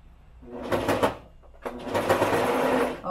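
A sewing machine stitches a fabric face mask, running in two close bursts: a shorter run, a brief slowdown, then a longer steady whir that keeps going to the end.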